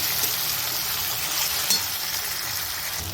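Cashews and spices fry in a pan with a continuous close sizzle and occasional soft stirring scrapes, steady in level with no voices.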